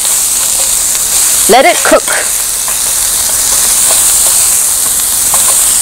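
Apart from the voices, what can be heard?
onions sautéing for chicken kothu parotta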